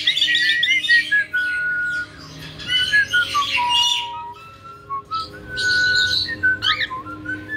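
Harsh squawks and chirpy calls from cockatiels, loud and close, coming in bursts with short pauses between, no voices.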